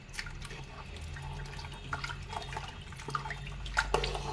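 Water pouring and dripping while butter is washed by hand to make ghee, soft trickles and splashes in a quiet kitchen with a low background hum.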